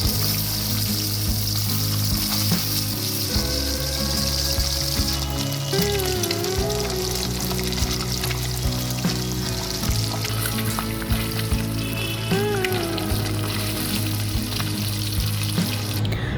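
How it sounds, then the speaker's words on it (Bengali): Kajoli fish frying in oil, a close, constant sizzle and crackle that runs unbroken throughout. "তেলের মধ্যে যে কটা মাছ দেওয়া সম্ভব সেই পরিমাণ মাছ দিয়ে হালকা সোনালি করে 2 পিঠ ভেজে তুলে নিতে হবে।"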